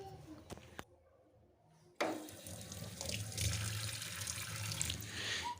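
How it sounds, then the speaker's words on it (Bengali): Tap water running into a sink as leafy greens are washed, a steady close splashing stream that starts abruptly after a few soft clinks and a short quiet gap. "তো শাকটাকে আমি একটু খুলে ভালো করে বেছে ধুয়ে নেব।"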